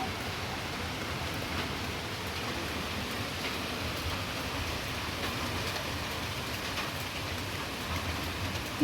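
Steady moderate rain falls continuously, a dense, even hiss of drops with no voices and no pauses throughout.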